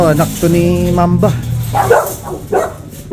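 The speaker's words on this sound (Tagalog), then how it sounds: "ito yung mga aso niya" A few dog barks and yips sound close by, mixed with people talking over them.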